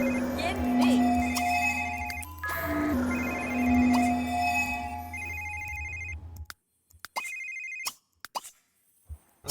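A phone in The Sims 3 rings with a repeating electronic ringtone over game music, loud and close, then cuts off after about six seconds, leaving a few short interface clicks.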